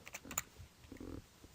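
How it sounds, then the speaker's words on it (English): Quiet close typing on a computer keyboard while entering a MATLAB command for a Raspberry Pi, a few soft irregular key clicks alone with no talking. "We do this by typing mypi equals"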